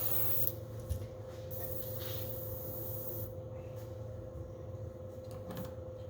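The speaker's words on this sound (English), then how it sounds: "I'm just spraying from the bottom." A soft, steady hiss of spray paint applied to a fishing lure from below, close and continuous, with a couple of faint clicks near the start.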